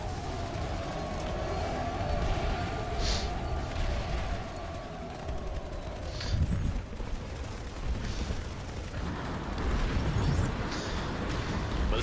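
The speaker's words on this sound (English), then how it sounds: "Just for a laugh, I'll take a few shots." Weapon fire in the online shooter game Planetside 2: a battle mix of booming shots and bursts over a dense rumbling background, with a few sharper blasts standing out and steady din throughout.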